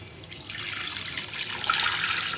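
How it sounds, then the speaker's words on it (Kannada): Water pours steadily into a kitchen pot holding boneless chicken set to boil, a continuous splashing stream that grows a little brighter and fuller toward the end. "ಸ್ವಲ್ಪ ನೀರು ಹಾಕೋಣ."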